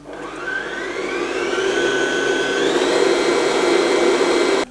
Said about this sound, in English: And I'm just going to whisk this up.